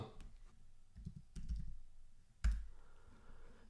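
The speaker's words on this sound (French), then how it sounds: "Vous allez aussi cliquer sur le plus." A few sharp, close clicks sound against a quiet room as a mouse is clicked in a task app, with a couple of louder taps standing out.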